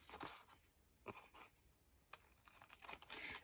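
Scissors trimming paper at close range, a few faint, sharp snips and crisp rustles in a quiet room.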